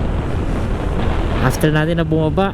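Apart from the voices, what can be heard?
strong flow of river water under a bridge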